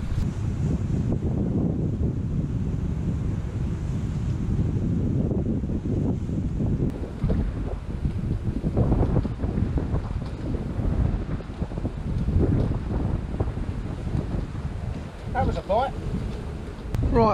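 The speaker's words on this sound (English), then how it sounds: "It's blowing a hoolie today." Strong sea wind buffets the microphone at Southend Pier, a loud continuous roar with gusty rumble throughout and some talk faintly mixed in.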